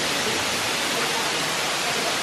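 A waterfall near Ubud pours steadily in a continuous, loud, broadband rush with no pauses or other sounds.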